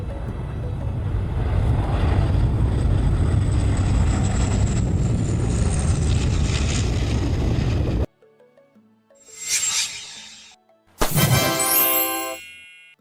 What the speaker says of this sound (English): A water bomber aircraft is a specialized firefighting plane